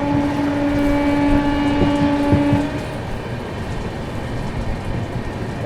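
A Duranto Express train runs with a steady, heavy rumble, and sustained tonal whines ring over it before fading partway through, with no voices.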